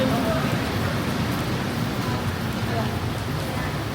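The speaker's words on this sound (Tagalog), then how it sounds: "Ulan." Steady rain, a continuous dense hiss of drops falling outdoors, moderately loud and unbroken throughout with no distinct individual impacts.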